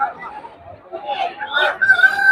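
An Aseel rooster crows at the Ghazipur chicken market, its call rising near the end over market chatter and nearby voices.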